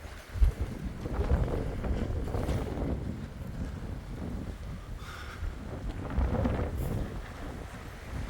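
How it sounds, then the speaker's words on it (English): Strong wind on Stewart Island buffets the microphone in low, rumbling gusts that rise and fall, with a faint hiss of surrounding air and no voices. "It's just a little bit windy still."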